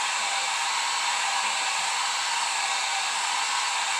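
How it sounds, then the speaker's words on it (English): A hair dryer blowing steadily at close range, a constant even whoosh with no pauses or other sounds. "And then you turn your hair dryer on."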